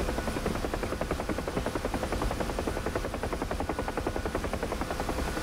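Steady thudding Huey helicopter rotor drone in a flight simulator game, with a rapid, even beat, loud and continuous throughout, no voices.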